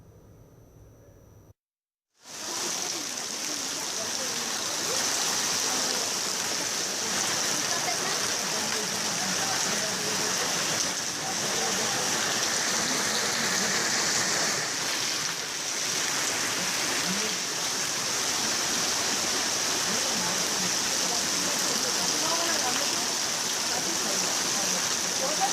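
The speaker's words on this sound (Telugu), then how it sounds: "కర్నూలు జిల్లాలో భారీ వర్షాలు కురుస్తున్నాయి." Heavy monsoon rain in Kurnool district, Andhra Pradesh, a steady dense hiss of downpour that starts abruptly after a brief pause and continues evenly and fairly loud throughout, with no other clear sounds.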